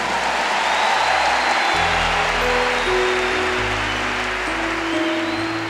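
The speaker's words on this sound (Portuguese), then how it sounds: "vamos aplaudir os mineiros então" A church congregation applauds during a Catholic mass or talk, a dense steady wash of clapping that holds at even loudness for several seconds with a low hum beneath it.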